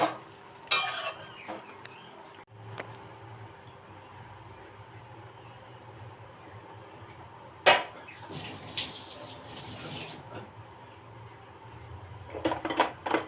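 Cooked potol (pointed gourd) and shrimp stirred in a pan with a little ghee after the gas is turned off, giving soft scraping and clinking of a spatula with a few sharper knocks, alone and close.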